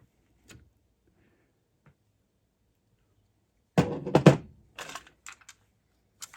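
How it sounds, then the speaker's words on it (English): A Sony CFS-9000 cassette transport under service starts up to check the tape path: near-silence, then a loud burst of mechanical clunks and whirring, followed by a few sharp, isolated clicks. "we will have to fire it up like this just to see if the tape path rides properly again"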